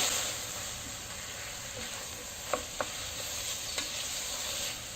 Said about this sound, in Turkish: Sarımsaklarımı içine atıyorum. Biraz pişecek. Bir tur karıştırıyorum şöyle.